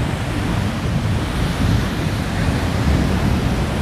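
Surf and wind at Ketawang Beach in Purworejo during a kite festival, a continuous loud roar of breaking waves mixed with blustery wind buffeting the microphone, with no talking.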